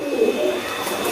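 Pigeons coo in a short, soft burst, a low throaty call heard close by against a faint steady background hum.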